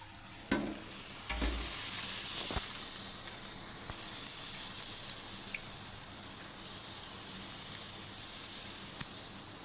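Rava dosa batter sizzles on a smoking-hot pan, a steady bright hiss that holds for several seconds with a few soft clicks and taps, no talking.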